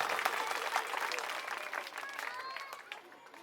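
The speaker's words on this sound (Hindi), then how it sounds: "आज की सभा के लिए जोरदार तालियां अपने लिए बजा दीजिए।" A crowd at a political rally in Krishnanagar, Delhi, applauds loudly, dense clapping that stays strong and slowly tapers off over a few seconds.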